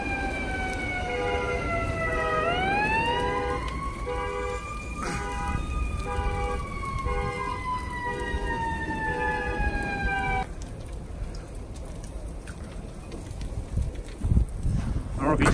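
Firefighters' SCBA breathing apparatus beeps in a steady, repeated pattern during a car fire at a dealership lot, partly buried under a loud, wailing siren that sweeps up and then holds before cutting off, with background commotion.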